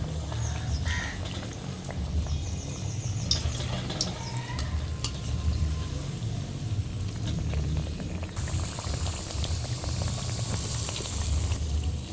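Coconut burelu sweets frying and puffing in hot oil, a steady bubbling sizzle with occasional crackles and pops, close and fairly quiet, continuing throughout without talk.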